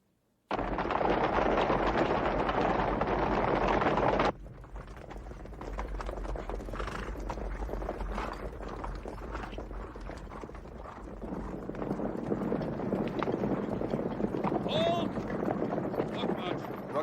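Horses of mounted light horse troops move over open ground, with a steady rumble of hooves and movement and a brief whinny near the end, under wind noise.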